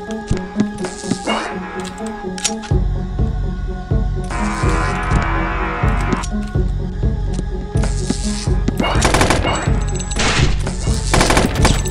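Rapid bursts of gunfire from the 2D shooter Boring Man, loud and close, with machine-gun rattles and single shots in clustered volleys, interspersed with squishy impact sounds throughout.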